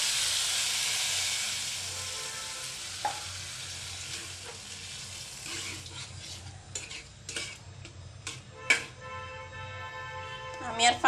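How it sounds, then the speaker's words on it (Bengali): Water poured into a hot pan of fried masoor lentils hisses loudly at first, then fades into quieter bubbling with scattered clinks and scrapes of a spoon against the pan. "এখন পানি দিয়ে দেব।"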